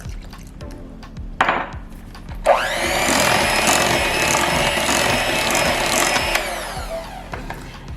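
An electric mixer whirs steadily through muffin batter of flour and milk, loud and close, starting with a clunk and running for about four seconds before stopping, with faint handling noises before and after.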